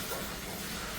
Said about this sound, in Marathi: आता सगळ्यात आधी आपण बटाटे तळून घ्यायचे